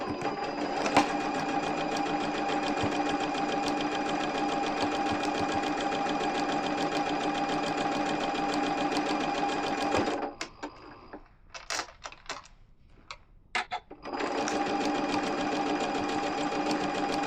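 Sewing machine quilting a Churn Dash table topper, running in a steady fast whirring stitch, pausing briefly with a few clicks and handling noises, then resuming at the same pace.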